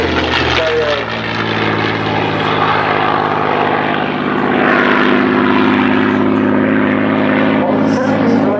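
A P-51D Mustang fighter plane roars loudly at an air show, its propeller engine drone steady and close, rising slightly in strength midway as it passes, with a commentator talking over it.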